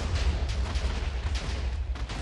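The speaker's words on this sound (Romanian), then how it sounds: "e dezastru cum se aud TNT-urile astea" TNT blocks exploding in Minecraft, a string of deep, rumbling booms that come in quick succession and overlap one another, loud and close.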